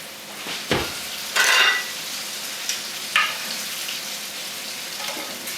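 Chicken piccata searing in a hot pan, a close continuous sizzle with bursts of louder spitting and a few clanks and scrapes of the pan, no talk.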